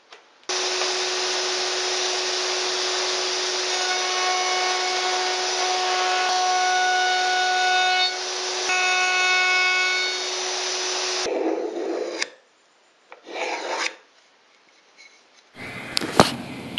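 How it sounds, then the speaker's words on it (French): A power tool rounds over the outer edges of wooden uprights for a bathroom cabinet, giving a steady high whine with a constant tone for about eleven seconds, followed by short bursts of rubbing and cutting noise and a few quieter gaps. "Je fais ensuite un léger arrondi sur l'extérieur des montants."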